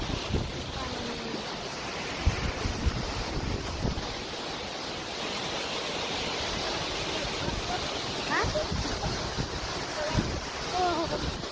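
Steady broadband rushing of water, like a waterfall or fast stream nearby, with wind buffeting the microphone throughout.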